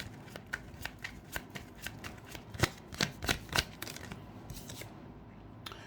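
Tarot cards shuffled by hand in a quiet room, a run of soft riffling bursts with a few sharper snaps and flicks near the middle as cards are drawn, fairly close and clear.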